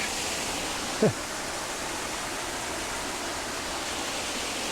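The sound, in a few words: half-frozen waterfall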